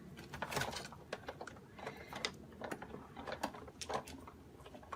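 An embossing folder with thick paper is cranked through a Big Shot die-cutting machine, giving faint, irregular clicking and ratcheting taps spread across a few seconds.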